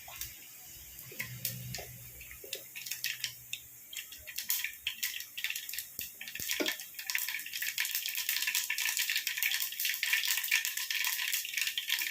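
Mustard seeds splutter in hot oil for a salted mango curry, sparse close pops and ticks that grow into a dense, continuous crackle.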